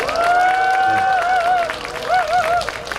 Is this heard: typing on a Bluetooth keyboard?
no